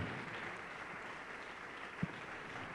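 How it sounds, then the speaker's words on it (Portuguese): A congregation at a church service claps together in a soft, sustained patter heard from a distance, with one sharper knock partway through. "Vamos aplaudir mais o Senhor Jesus."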